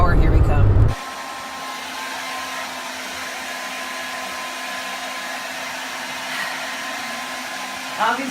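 A steady, even electrical whir runs for several seconds at moderate level after a brief louder burst at the start, like a hair dryer blowing.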